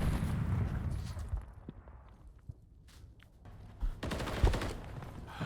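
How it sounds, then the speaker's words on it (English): Bursts of distant, muffled video game gunfire in a Call of Duty match crackle in short volleys, with quieter gaps between them and a louder cluster near the end. "there is gunfire going down because I can hear that."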